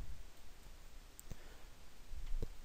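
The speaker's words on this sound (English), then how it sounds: "In the very bottom here, click Save." Two sharp, faint clicks of a computer mouse, about a second apart, stand out against a quiet room hum with no voices.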